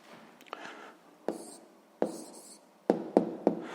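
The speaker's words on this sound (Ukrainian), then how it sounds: "Записуємо тоді відповідь." A pen scratches out a math exercise answer on paper, several short strokes and taps close by, separated by brief quiet gaps.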